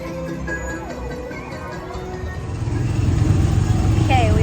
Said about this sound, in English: we are actually riding the, whoa, I gotta pay attention, the Tomorrowland Speedway right now.